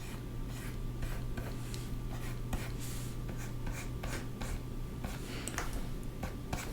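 Pencil drawing a flower stem on paper, a steady close scratching and rubbing of graphite strokes at an unhurried pace, continuous with small pauses, no talking over it.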